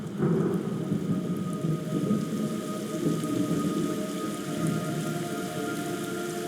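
Steady heavy rain pours down with low rolling thunder rumbling throughout, a constant dense wash of sound with no voices, in the video game Metal Gear Solid Delta: Snake Eater.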